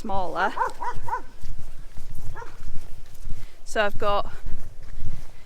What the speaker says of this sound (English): Sorry about the dogs barking yet again.